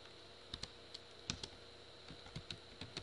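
Keystrokes on a computer keyboard as a command is typed into a shell while restoring an Exchange Server 2007 storage group copy: sparse, irregular quiet clicks, about a dozen taps, close and faint with no voice.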